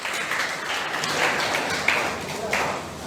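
An audience claps for a NEET student topper at a victory celebration, with moderately faint, steady applause and a few sharper claps standing out near the end.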